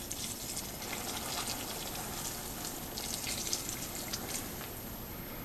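White whiskey pours steadily into a glass mason jar packed with apples, a continuous soft splashing and trickling of liquid heard close and alone at low volume.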